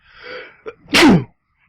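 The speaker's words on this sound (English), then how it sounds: "Sneeze. That's a sneeze." A single loud sneeze, preceded by a short inhale, close to the listener and alone.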